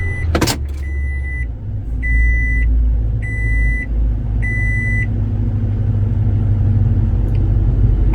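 A 2014-2020 Toyota Tundra truck starts up with a sharp click, then its engine rumbles steadily while a chime beeps four times in a regular rhythm, each tone held for about half a second.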